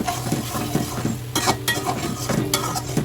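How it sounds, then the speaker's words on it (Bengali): Ginger garlic paste fries in a pan while being stirred for layer chicken curry, with busy scraping and clinking of a utensil against metal over a low sizzle, close and fairly loud, without speech. "এরপর সুন্দর করে আদা রসুনের পেস্টটাকেও ভেজে নিতে হবে"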